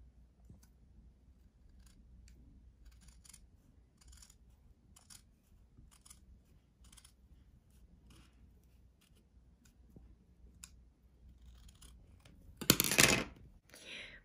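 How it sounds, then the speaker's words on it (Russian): Scissors snip through folded paper napkins to trim the edge of a homemade mask, a run of quiet crisp cuts over a soft room hum, ending in a louder close crunch. "Берем ножнички. И вырезаем каемку."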